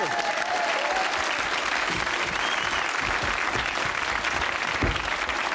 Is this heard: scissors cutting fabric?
no